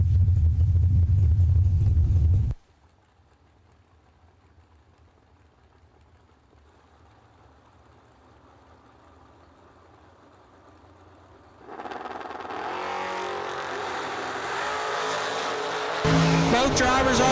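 Dragster at an old-school bracket drag race launching down the strip: a loud low engine roar up close, then a long quieter stretch of distant rumble, then a broad roaring engine blast returning strongly toward the end.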